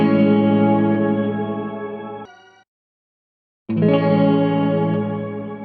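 Electric guitar run through a TC Electronic Hall of Fame 2 reverb pedal, a ringing chord sustaining then dropping to a brief tail, silence, then another chord strummed loud and decaying slowly.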